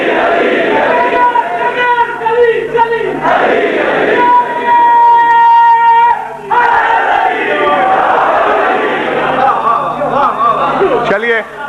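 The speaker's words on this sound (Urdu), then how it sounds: "آپ نے نعرہ لگایا" Audience at a religious majlis shouts a slogan in unison, a loud crowd chant with strong harmonic voices rising in waves and filling the whole stretch.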